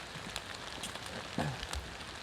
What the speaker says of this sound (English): Rain's coming in pretty hard.